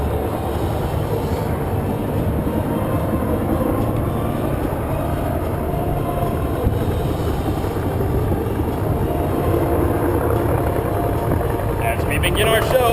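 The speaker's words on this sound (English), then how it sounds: "demonstrating the helicopter's ability to fly in any direction. Forward, back, or sideways." AH-1 Cobra helicopters flying an air show demonstration, heard as a constant loud rotor and engine roar that fills the whole stretch without letting up.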